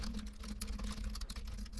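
Rapid typing on a computer keyboard while writing Pygame platformer collision code, a dense steady patter of keystrokes close by over a low constant hum, with no talking.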